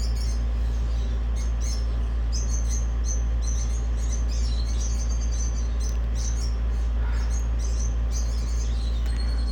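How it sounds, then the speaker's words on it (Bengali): Lovebirds in an aviary chirp in quick, overlapping bursts of high calls over a steady low hum, busy and continuous throughout. "লাভবার্ড পাখি ভাই প্রচুর চিল্লায়"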